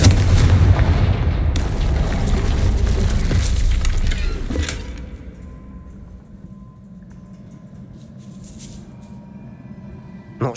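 A Confringo spell explosion in the Hogwarts Legacy video game bursts loudly with crackling, crumbling debris for several seconds, then fades into a quieter rumbling ambience with a few faint clatters.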